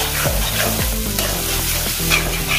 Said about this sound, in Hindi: इसको 1-2 मिनट ऐसे हम चलाते रहेंगे